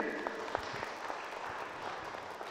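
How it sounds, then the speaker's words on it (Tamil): An audience at a meditation talk claps hands in a steady, moderately loud patter of applause, with a few sharper claps standing out and faint talk underneath. "கைத்தட்டு."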